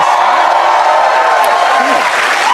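A studio audience claps in steady applause throughout, with a faint whoop rising above the crowd. Someone talks loudly over the clapping.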